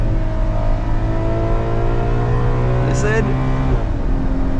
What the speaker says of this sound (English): Oh, that sound on the upshift.